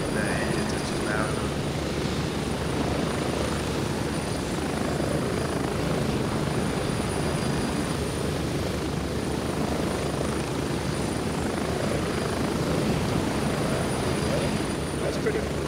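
Helicopter engines in the video game Grayzone Warfare, a loud, steady rotor thump and turbine whine droning continuously throughout, with a voice talking faintly underneath.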